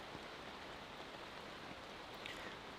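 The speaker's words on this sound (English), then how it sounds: "the rain has finally arrived, as has the wind" Heavy rain drums steadily on a tarp shelter in a dugout pit, a dense, even wash of noise with wind mixed in and no voices.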